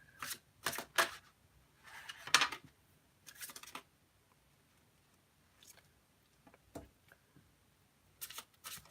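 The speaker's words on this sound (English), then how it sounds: "One last shuffle for Aries first deck" A tarot card deck is shuffled in several short, soft bursts of riffling and flicking, separated by quiet pauses, close and fairly faint.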